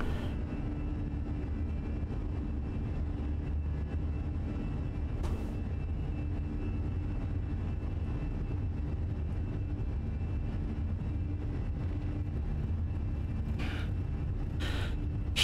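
A steady airliner engine roar from a takeoff roll out of Las Vegas in Microsoft Flight Simulator, loud and even throughout, with a few brief clicks near the end and no talk.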